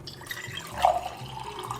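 Filtered water trickles and drips into a container for plant cuttings in a home kitchen, a soft, brief liquid splash heard close by.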